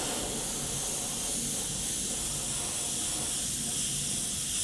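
An airbrush sprays fluoro green paint with a steady, close, continuous hiss and no pauses.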